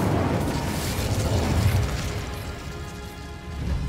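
The Incendio fire spell erupts in Hogwarts Legacy, a loud whooshing burst of flame with rumbling low roar that swells then slowly fades.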